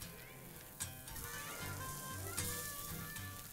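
Seasoned cubes of paddlefish sizzle in a smoking-hot frying pan, a steady close crackle with a couple of sharp clatters as pieces go in.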